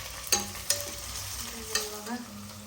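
Onion and tomato frying in a pan for veg biryani, a continuous sizzle broken by several sharp stirring clatters, close up and without speech.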